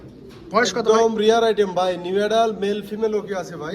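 Black pencil pouter pigeons coo in a loft at close range, a run of rolling, rising and falling coos that carries on almost without pause.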